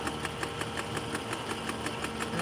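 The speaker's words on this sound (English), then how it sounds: "Now we're going to sew that." A sewing machine stitches denim in a fast, steady mechanical rhythm of evenly spaced needle strokes, running continuously and close with no talking.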